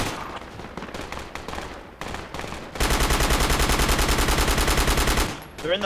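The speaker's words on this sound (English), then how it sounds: "Yeah, I hear that. I'm shooting on it." Rapid gunfire in a military shooter video game, with scattered shots followed by a long, loud, steady burst of automatic fire amid battle noise.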